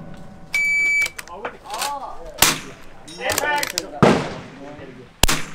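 Sharp gunshots at a shooting competition stage, fired off the bench at targets in sequence: several loud, sudden cracks spaced apart, with a steady electronic beep and people talking in between.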